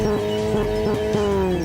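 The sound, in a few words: car engine revving in Steins;Gate 0 video game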